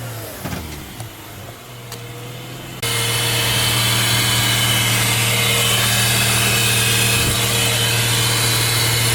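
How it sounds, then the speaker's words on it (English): A Mazda RX8 rotary engine idles steadily after starting, with a low, even hum and a constant buzzy drone that holds loud and close, following a quieter stretch of faint clatter and handling noises. "Yeah, RX8 is running."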